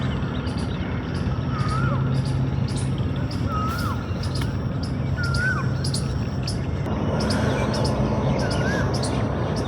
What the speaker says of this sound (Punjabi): ਹਰ ਇੱਕ ਤਰ੍ਹਾਂ ਦਾ ਪੰਛੀ ਇੱਥੇ